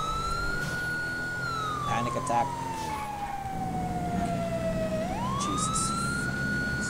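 A police siren wails from a patrol car in GTA V during a street-race pursuit, its tone sweeping down slowly and then rising again, loud and continuous under engine noise while people talk over it.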